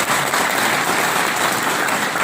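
A large audience claps in steady, dense applause throughout a police officer's address to a PA/PS gathering. It stays loud and continuous with no pauses.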